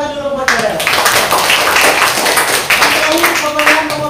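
Students in a classroom lesson break into brisk, close clapping that starts sharply after half a second and carries on as a dense patter, with a voice speaking over it.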